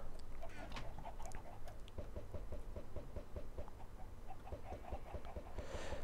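Chickens cluck in a coop in Minecraft, a busy run of short repeated clucks and scratchy bursts against a steady background hum.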